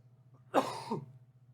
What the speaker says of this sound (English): if you guys hear me coughing, I'm very sorry